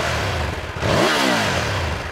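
Triumph Tiger 1200 GT motorcycle exhaust revving, a rough, loud engine note that climbs sharply in a single rev midway and then settles back, with no talking.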